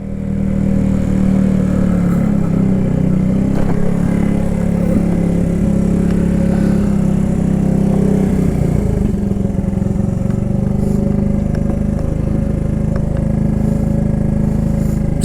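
A classic Honda CB125S barn-find motorcycle idles far too high, its small engine holding a loud, continuous, close-up drone with a faint mechanical clatter and only slight wavering in pitch across the whole stretch.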